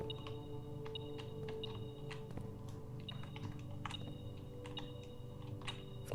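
Repeated short electronic beeps from the video game Blue Prince, a steady high double tone pulsing at irregular intervals over a soft background hum of game music, with no one talking.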